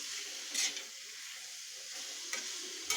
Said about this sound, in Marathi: शिजवायच्या नाही आहेत या भाज्या आपल्याला थोड्याशा परतून घ्यायच्या आहेत